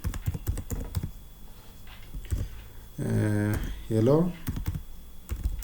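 Computer keyboard clicks while code is typed into a serial print line for an Arduino: light, irregular keystrokes come and go, with two brief spoken stretches in the middle.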